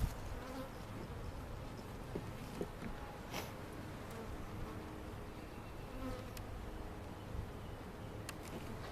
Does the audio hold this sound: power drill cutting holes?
no